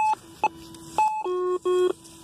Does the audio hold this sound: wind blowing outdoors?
no